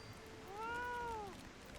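A single drawn-out meow from the Fat Cat minion in Final Fantasy XIV rises and falls over about a second against a faint low background hum.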